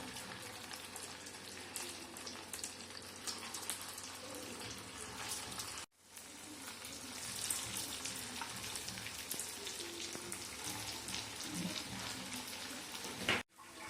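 Sabudana vada balls set into oil in an appe pan, giving a steady close sizzle and light crackle of frying for the whole stretch, with a brief dropout midway and a sharp clink near the end.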